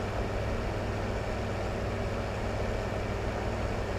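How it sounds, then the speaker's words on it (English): A pink tractor in Farming Simulator 2015 runs with a steady, low engine drone that holds at an even loudness throughout, with no talking over it. "And his pink tractor."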